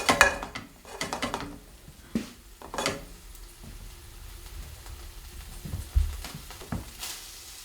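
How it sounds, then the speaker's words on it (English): Garlic hits a hot pan just after a whiskey flambé, giving a low, uneven sizzle broken by several sharp clinks and scrapes of a utensil against the pan. No one speaks. "Just going to add the garlic."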